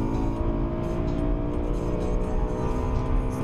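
BMW M3 engine in a car driven hard, the revs rising and falling as the throttle is worked on and off. It is loud, close and steady throughout, with no talk over it.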